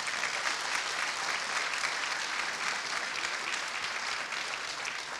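A large conference audience at an economic forum gives continuous, dense applause, a thick wash of many hands clapping at a steady level with no pauses.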